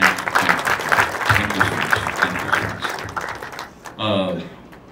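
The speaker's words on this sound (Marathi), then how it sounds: "त्यांच्यासाठी आपण खूप खूप जोरदार टाळ्या वाजवूया." An audience at a Marathi film launch event for Naad breaks into loud, dense applause that thins out, and then a voice speaks near the end.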